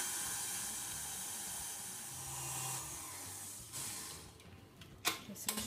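An electric whisk runs steadily through a chocolate orange no-bake cheesecake mixture in a bowl, a constant hissing whir that slows and stops, followed by a few clicks and knocks.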